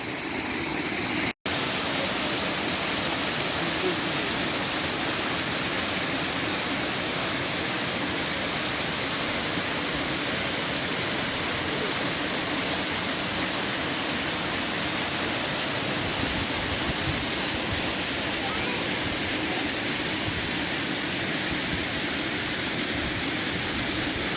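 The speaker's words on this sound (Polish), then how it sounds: "Dokładnie pod ten tutaj taki właśnie widzicie ten rozbryzgujący się strumień" Water splashes down a waterfall into a mountain stream in the Comeragh Mountains in Ireland, a dense, constant roar heard close up for the whole stretch with no voices over it.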